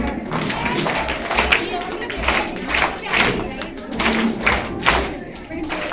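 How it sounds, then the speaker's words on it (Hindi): A Republic Day school audience in Muni ki Reti, Rishikesh, claps together in a steady pulsing rhythm, a thick wash of many hands at close range, with a few voices still audible underneath. "अब मुंह से नहीं बोलेंगे, खाली ताली बजाएंगे,"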